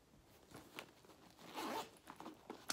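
A zipper on a leather purse's side pocket is drawn open in short rasping pulls, one longer stroke in the middle and a sharp final tug, close and quiet with no talk.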